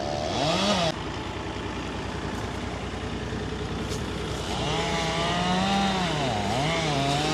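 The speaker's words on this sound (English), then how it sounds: "Backhoe." A backhoe's diesel engine runs steadily on a rural work site near a rock pile, a loud continuous drone with the engine note rising and falling as it revs, with no talk over it.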